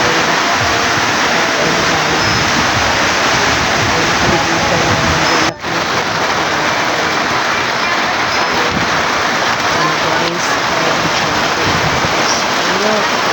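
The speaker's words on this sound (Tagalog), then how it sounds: "malakas na ang ulan." Heavy rain pours down outdoors among plants beside a house, a loud, dense, constant roar with a brief dip midway and no voices.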